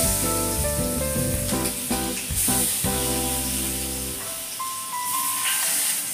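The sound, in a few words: fish frying in oil in a wok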